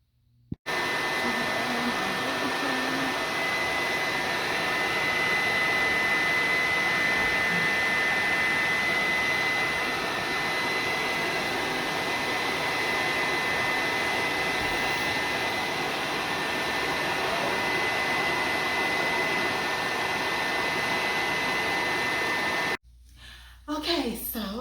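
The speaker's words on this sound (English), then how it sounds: "sit under the dryer" A hood hair dryer running steadily during a home hair relaxer treatment, a constant loud whooshing blower hum that stops abruptly near the end.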